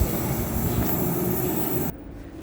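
A metro train rumbles steadily close by with a broad low roar, then the sound drops off abruptly as it departs.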